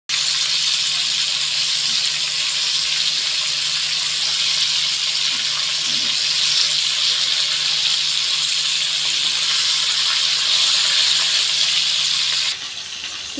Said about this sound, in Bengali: তো একে একে সমস্ত এরকম মাছ আমি ভেজে নেব।